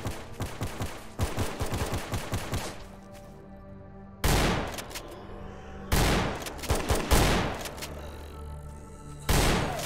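Gunfire in the video game Stalker Anomaly: rapid bursts of automatic fire crackling in dense rattling volleys, broken by short pauses and then loud renewed salvos, close and punchy.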